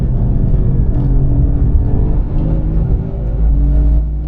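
An Alfa Romeo Giulia QV with a slightly modified exhaust driving at steady speed, a low constant engine rumble heard from inside the cabin with no talking.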